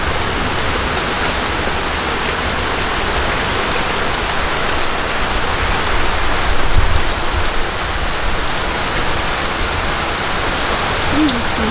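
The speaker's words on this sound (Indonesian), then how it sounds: "Gelap, soalnya di sini mendung, hujan." Steady rain falls outdoors under an overcast sky, a close, even hiss of drops pattering on surfaces that holds at the same loudness throughout, with no voices.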